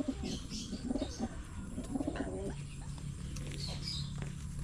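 A sick pigeon with a bleeding growth coos in soft, repeated throaty murmurs close by, with rustling and faint voices in the background.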